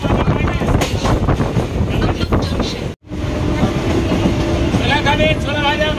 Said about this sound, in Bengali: ট্রেন এসে পৌঁছেছে তমলুক জংশনে